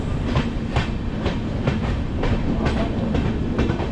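A Garib Rath train rumbles through Jangaon station without stopping, with rhythmic clickety-clack of wheels over rail joints, loud and close, steady throughout.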